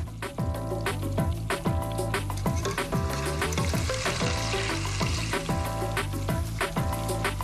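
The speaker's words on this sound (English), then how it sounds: "You can hear the bubbles slowing down, so it's telling me it's almost done." Wontons frying in hot oil, a steady dense bubbling sizzle that carries on evenly throughout with a few faint clicks and taps from cooking utensils over it.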